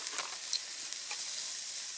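Sausage and kraut frying in a hot pan at a forest campsite, giving a steady, close hiss of sizzling fat with a few soft crackles and pops scattered through it, with no voices.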